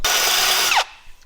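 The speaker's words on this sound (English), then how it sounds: "what I am attempting to do is drill the head of the screw off" A power drill whines loudly and steadily for most of a second while drilling the head off a screw on a Suzuki LJ20 jeep, its pitch dropping as it winds down and stops, leaving near silence.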